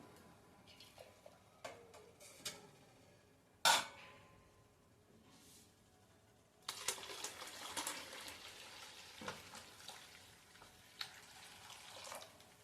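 Water is poured into a metal pot for making jowar bibdya, faint splashing and trickling with scattered clinks, building into a steadier, louder pour midway.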